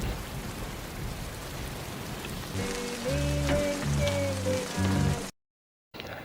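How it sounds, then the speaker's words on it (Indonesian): Steady rain falls across the scene in the film Curve (2015), a broad continuous hiss that swells as tonal score notes enter midway, then briefly cuts to silence before resuming. "hujan mulai turun dan dia dapat menampung air hujan untuk diminum"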